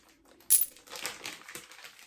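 Plastic bags rustle and crinkle in a few short bursts, close by, starting with a sharp loud crackle and then softer handling.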